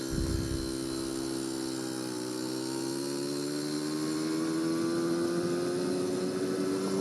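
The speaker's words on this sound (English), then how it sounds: "Still got a little bit of engine noise." The engine of a 1980 Honda Express moped runs steadily up close with a whiny, buzzing drone. Its pitch dips briefly, then climbs gradually as the revs rise, and no one speaks.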